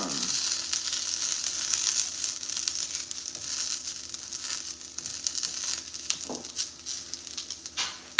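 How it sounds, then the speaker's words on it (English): Salmon searing in a hot pan gives a continuous bright hiss and sizzle, close and even, with a few soft crackles and utensil touches toward the end. "Just trying to sear the other side."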